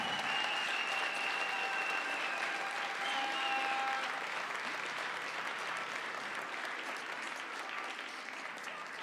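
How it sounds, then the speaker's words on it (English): Sustained applause from spectators at the junior air pistol final of the 2018 European Championship, a steady rain of many hands with faint whistles early on that eases slightly toward the end. "please give a round of applause to your home shooter, János Bolgár."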